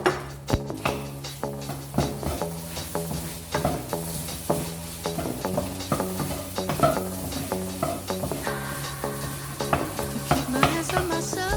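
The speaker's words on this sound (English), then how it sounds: "put the other ingredients that you would like in your fried rice into the wok" Fried rice with carrots, peas, corn and chives is stir-fried in a wok, a steady sizzle broken by loud, rhythmic scraping and clanking of the spatula against the pan.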